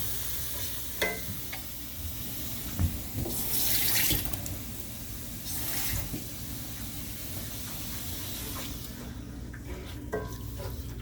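Half a cup of water goes into a pot of snack mixture seasoned with cayenne pepper, a soft splashing pour joined by sizzling and stirring in a quiet kitchen, with a few brief louder bursts of water.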